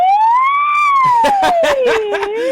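A voice imitates an ambulance siren during a singing exercise, a smooth gliding tone that sweeps up and back down, with other voices talking over the second half.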